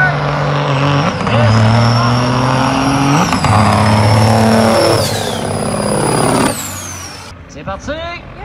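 Loaded semi trucks launch side by side at a big rig drag race, their diesel engines roaring loud and close as they climb through gear shifts with falling and rising pitch, then cut off abruptly near the end while an announcer talks over them.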